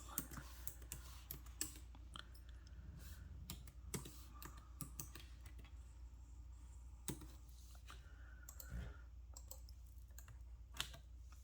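Keys clatter steadily at a computer keyboard while entering product names into a Square inventory list, a close run of quick clicks with brief pauses and no voices.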